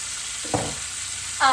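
Chicken pieces browning in a hot pan for caramelized shallot chicken, with a steady loud sizzle, a brief scrape of stirring midway and a flare of spitting fat near the end.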